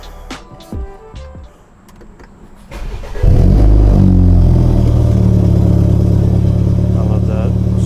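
A BMW F30 fitted with a cold air intake cranks and fires up, its engine catching after a quiet start and settling into a loud, steady idle with a deep exhaust drone that carries on to the end.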